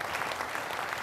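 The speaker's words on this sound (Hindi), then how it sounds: "जरा दोनों हाथ ऊपर उठाकर देर तक तालियों की गड़गड़ाहट हो" Audience at a Hindi poetry gathering clapping, a dense, steady burst of applause throughout.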